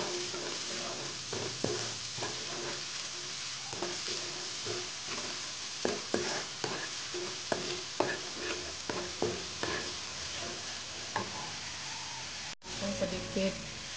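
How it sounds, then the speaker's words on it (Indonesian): Food is stirred in a frying pan after sweet soy sauce goes in, giving a steady soft sizzle broken by repeated scraping clicks of the utensil against the pan, close and fairly quiet. "Tuangkan kecap manis ya, lalu diaduk rata."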